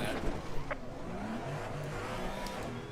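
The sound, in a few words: race car engine in racing game at Brands Hatch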